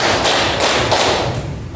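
Classroom students clap in a rhythmic group pattern, several loud, full bursts of many hands spaced evenly and heard up close.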